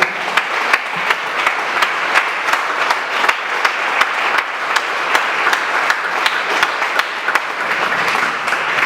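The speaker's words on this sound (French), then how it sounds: "Can we clap for the Lord?" A church congregation claps for the Lord in a steady, rhythmic beat, many hands together sounding loud and full with a roomy crowd wash and no talking over it.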